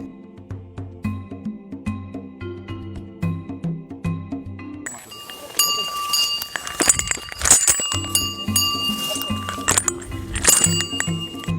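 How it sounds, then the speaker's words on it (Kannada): An elephant's bell clanks repeatedly in a steady rhythm at an elephant camp, first thin and hollow, then a brighter ringing joins in with a metallic jangle, fairly close. "ಅಗೋ ಆ ಕಡೆಯಿಂದ ಗಂಟೆಯ ಸದ್ದು ಕೇಳಿಸಿಯೇ ಬಿಟ್ಟಿತು"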